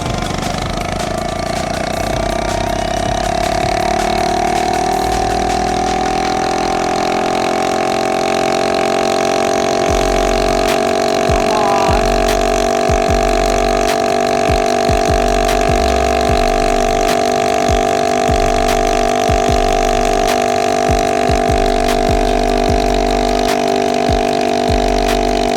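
FRP GMB100 mini bike engine fitted with a new exhaust, running flat out at about 38 mph: a loud, steady high-revving drone held for the whole stretch, with a strong sustained pitch and rough low-end exhaust pulses.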